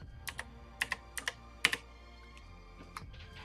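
Quick keystrokes on a computer keyboard, a handful of sharp, irregular clicks in short bursts with pauses, close and fairly quiet, no talking.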